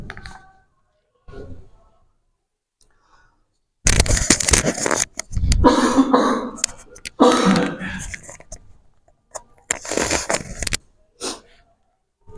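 A few bursts of coughing and throat clearing close to the mic, rough and irregular, separated by short silences.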